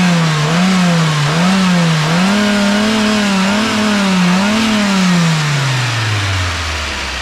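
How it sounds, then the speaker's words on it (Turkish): A car engine on a Europa with 203,000 km is revved in several rising and falling surges, loud and close, then winds down toward idle, with no talk. "Amca gaza bassana abi."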